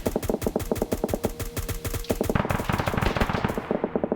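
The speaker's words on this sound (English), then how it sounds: "I think Overwatch is shooting at this flashlight over here" Rapid automatic gunfire rattles steadily throughout on the Kamino firing range in a video game, loud and close, with dense overlapping bursts and no talk.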